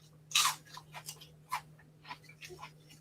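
Crisp, lightweight Asian snack crackers are chewed close up, with one sharp crunch followed by several softer, irregular crunching bites over a faint steady hum.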